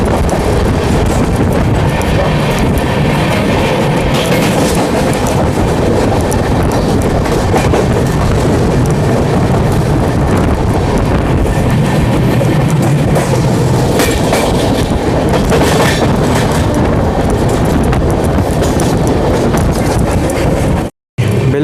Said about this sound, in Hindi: ये है 22511 मुंबई LTT कामाख्या कर्मभूमि एक्सप्रेस।